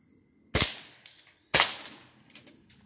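Two sharp .22 caliber air rifle shots firing piranha pellets crack about a second apart, each followed by a brief metallic ring and smaller clicks, close and loud with no talk.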